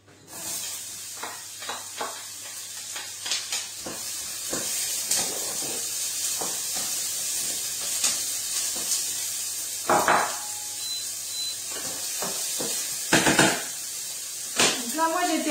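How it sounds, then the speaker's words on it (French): Onions hit hot oil in a pan on an induction hob, giving a steady hiss with scattered sharp crackles and clinks of utensils throughout. "Une fois que l'huile est chaude, on met les oignons."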